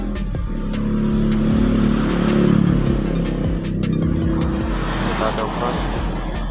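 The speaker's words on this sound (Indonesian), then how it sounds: "Terus ini coba kita nyalakan motornya" A Yamaha NMAX scooter engine starts and settles into a steady low running hum, loud and continuous, while someone speaks over it.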